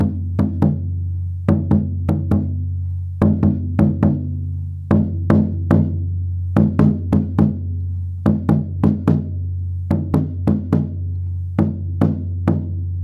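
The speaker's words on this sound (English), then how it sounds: "the alfaia part for Emperor's New Groove" An alfaia bass drum plays a repeating groove in grouped booming strokes, steady and close, a deep sustained hum under the hits, with no voices.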